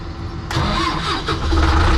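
A tractor engine cranks and catches abruptly on a farm during wheat unloading from trailers, then settles into a loud, steady rumbling idle close by.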